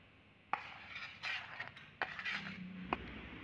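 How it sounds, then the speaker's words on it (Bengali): A spoon scrapes and clinks in a bowl while sugar, cashews and ground small cardamom are mixed into roasted gram flour, giving sharp metallic knocks, soft stirring scrapes in between, and a short tonal ring near the end. "এখানে চিনি, কাজু আর ছোট এলাচ যেটা পিষে রেখেছিলাম সেটা এবার আমি এই ছোলার ছাতুর সাথে মিশিয়ে দেব"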